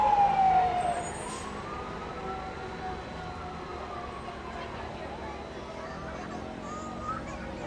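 A fire truck siren wails in a falling then rising sweep over steady crowd and street noise at a parade in the rain, moderately distant, with voices murmuring underneath.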